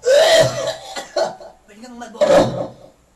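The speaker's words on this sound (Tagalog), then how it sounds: "Umuubo ng malakas." Several harsh, loud coughs come in bursts with short pauses between them, close to the listener.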